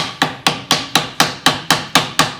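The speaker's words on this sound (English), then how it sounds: "the entire gasket out with a hammer." Nine sharp, evenly spaced hammer taps cutting out a paper gasket, close and crisp, each ringing briefly before the next strike.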